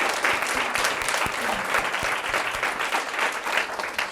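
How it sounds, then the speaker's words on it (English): Audience applause for Daphne Costa Lopes at an intimate in-person evening event in London, a dense, steady round of clapping from a crowd, close and loud throughout. "Can we have a big applause?"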